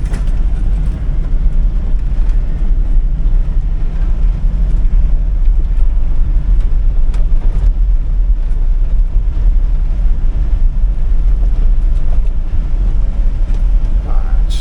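A 2003 Hummer H2 with a 6.0L LQ4 V8 being driven at a wrecking yard, a loud steady engine and road rumble with rattles and knocks throughout, with occasional voices underneath.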